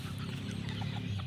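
Chickens cluck softly together nearby, a dense murmur of low clucks with a few higher calls over steady background noise.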